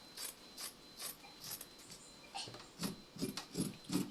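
Scissors cut fabric for a princess bustier circle dress pattern, giving a series of quiet, evenly spaced snips that grow slightly firmer toward the end, with no talking.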